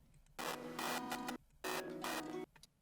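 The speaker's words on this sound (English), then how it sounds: "I use the same sample to make some glitches" Two short bursts of glitchy, buzzing texture made from a chopped sample for an electronic track, each about a second long with a brief gap between, fairly quiet and alone.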